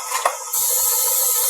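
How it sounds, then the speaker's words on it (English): Cooking spray hisses from a can onto the edges of a cake pan for blondies, a steady close airy spray lasting about a second after a brief rustle. "I'm going to spray the edges first before I pop that in there"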